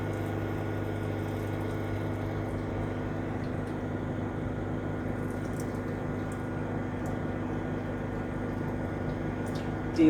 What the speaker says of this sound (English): I hear the flow of water